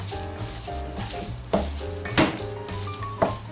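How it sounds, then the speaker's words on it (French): Ground meat being mixed with pepper and spices in a bowl: wet squelching and scraping with occasional sharp clinks of utensil on dish, close and fairly loud, with no talk. "On va déjà la mélanger comme ceci."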